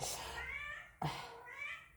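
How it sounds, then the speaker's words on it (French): A mother cat meows twice indoors, two drawn-out, whiny calls about a second apart, close and fairly clear with quiet room tone. "vous allez entendre mon chat"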